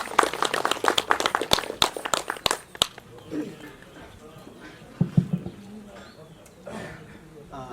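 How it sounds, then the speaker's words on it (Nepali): Enthusiastic applause breaks out at a Nepali literary celebration dinner in Pokhara, dense clapping for the first three seconds before fading into murmured crowd chatter and brief voices. "जोरदार ताली हाम्रो कृष्णजीका लागि"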